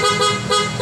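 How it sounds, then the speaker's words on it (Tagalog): Loud aftermarket horn on an Easyride ADV 175 motorcycle, sounding as one steady close blare with a slight dip midway through. "Tapos loud horn."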